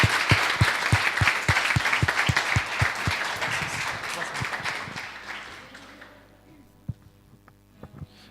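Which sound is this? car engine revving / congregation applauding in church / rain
congregation applauding in church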